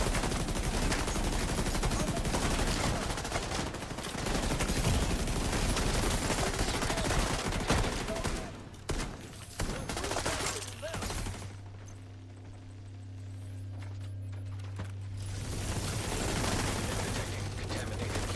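Gunfire in The Division 2 crackles in dense, overlapping bursts through the first half, then thins to scattered shots over a low steady hum and game effects.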